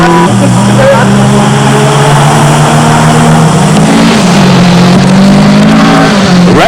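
A Ford Escort rally car engine at a South African rally stage, revving hard and loud with rising and falling pitch as it accelerates and shifts, under a commentator's voice.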